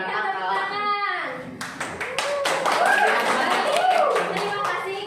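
A fourth-grade elementary classroom breaks into lively applause, many hands clapping in a dense, uneven patter that builds after a spoken prompt, with children's voices chattering underneath.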